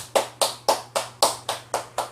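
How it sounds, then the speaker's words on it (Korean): Eight evenly spaced sharp claps ring out one after another, a steady rhythmic clapping at a lecture with no voices over it. "정진만 선생님께 다 같이 박수 한번 보내주시기 바랍니다"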